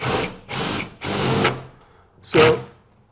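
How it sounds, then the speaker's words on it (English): A power drill bores slowly through drywall around a staple in three close whirring bursts, then one shorter burst after a pause, close and loud. "And then just slowly go through the drywall."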